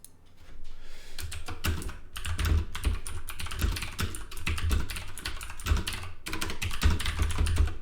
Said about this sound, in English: Apologies for the mechanical keyboard sounds there